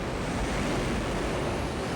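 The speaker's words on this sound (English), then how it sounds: "Monster waterspout." Roaring wind and crashing waves around a huge waterspout on open water, a loud, steady broadband rush with no let-up and no voices.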